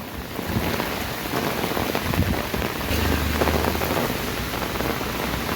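A sudden heavy downpour of the first monsoon rain near a riverside bathing spot hisses loud and unbroken, with a low rumble joining midway and no one talking.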